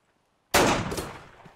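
One loud, close gunshot at shooting practice cracks out of silence, then rings and decays over about a second.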